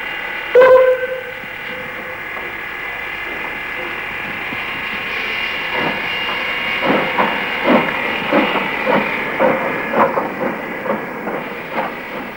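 Steam locomotive on a heritage line heading back to Rolvenden, a loud hiss opening with a sharp burst, then a steady steam roar with rhythmic chuffs building in the second half, close and alone.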